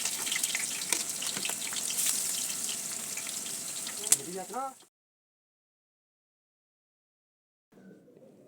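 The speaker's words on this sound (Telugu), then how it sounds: "ముందైతే పచ్చిమిరపకాయలు వేసేసుకున్న తర్వాత ఉల్లిపాయ ముక్కలు కూడా వేసి బాగా వేపెడుతున్నాడు అనమాట" Green chillies and onion pieces sizzle loudly in a hot pan at a family festival meal, a dense crackling fry for several seconds that cuts off abruptly, followed by silence and a faint low rumble near the end.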